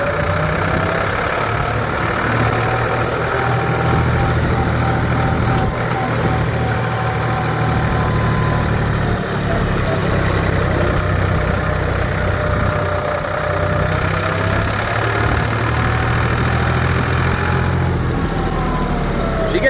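A 1984 Ford 340A industrial tractor and skip loader engine running steadily, a loud continuous mechanical drone with a knocking rumble, heard close up and alone for the whole stretch.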